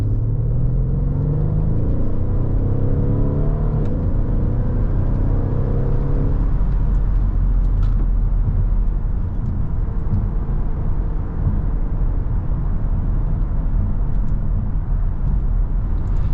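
A 2015 Mercedes ML63 AMG W166 SUV drives along, heard as a steady loud cabin rumble and low engine drone with road noise throughout, no voices.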